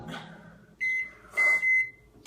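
A microwave oven heating vegetable shortening for a homemade candle gives off a loud steady hum in bursts, with a high tone sounding over it and brief clatter at the start.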